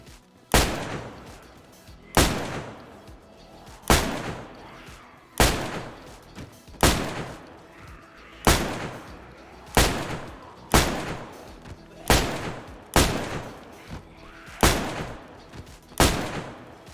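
Shotgun fire in DayZ aimed at infected, ten loud single shots spaced evenly about every one and a half seconds, each with a sharp crack and a decaying boom, with no talking.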